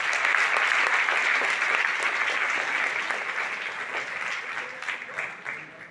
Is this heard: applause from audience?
yes